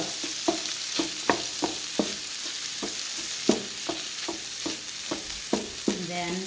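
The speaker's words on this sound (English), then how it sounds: "I'm going to add just a tad bit more oil so I can cook my cabbage on the other side" Canned corned beef and cabbage fry in oil in a pan, a constant close sizzle broken by regular scraping stirs of a utensil, about one every half second.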